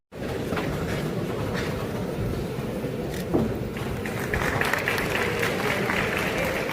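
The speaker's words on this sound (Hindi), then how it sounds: "तालियां बजती रहनी चाहिए।" A crowd at a state-level youth festival applauds in a continuous, even wash of clapping that swells slightly toward the end, with a voice talking over it.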